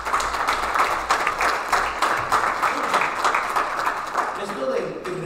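A church congregation claps loudly and steadily for several seconds after a call for applause, a dense wash of hand claps with voices mixed underneath.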